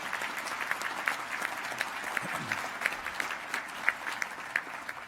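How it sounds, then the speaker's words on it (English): Audience applause for newly introduced governors at the National Governors Association 2017 winter meeting opening ceremony, a steady, moderately distant clapping with a few sharper individual claps throughout. "If you give a round of applause to the new governors who are here with us today."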